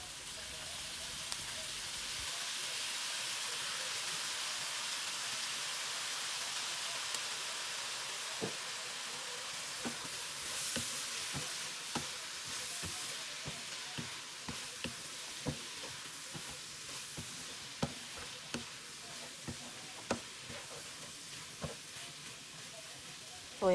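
Chicken fried rice stirred in a pan with soy sauce, a steady soft sizzle with frequent scraping clicks from the spatula building toward the end.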